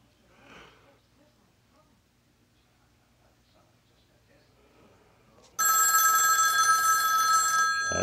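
A rotary phone's mechanical bell rings loud and continuous, a bright metallic trill that bursts in after several seconds of near-quiet with faint breathing and handling sounds.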